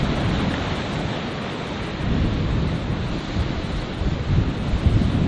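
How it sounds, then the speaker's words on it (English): Strong wind roars and buffets constantly at Cathedral Rocks, a loud, gusty rushing noise filling the whole stretch with no voices. "that's getting super windy."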